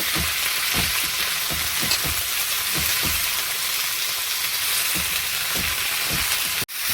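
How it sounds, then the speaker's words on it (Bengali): Mixed vegetables fry together in a pan, producing a loud, continuous crackling sizzle with soft scraping strokes from stirring. "সব সবজি একসাথেই তুলে দিয়েছি, একটু ভেজে নেবো ভালো করে।"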